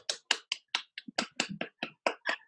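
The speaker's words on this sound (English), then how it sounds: "Let's give a round of applause to Lina." A small group applauds Lina at a coaching session: a run of about a dozen crisp, close claps in a quick, even rhythm, with no talking.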